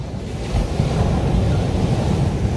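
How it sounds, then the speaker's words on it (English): Surf breaking on the beach at San Juan, La Union, a surfing spot in the Philippines, with a loud continuous roar of waves and wind rumbling over the microphone throughout. "there's a lot of waves here, the beach is beautiful"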